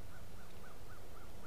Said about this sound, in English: You just heard a blue jay